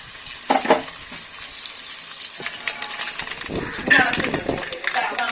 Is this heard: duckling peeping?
no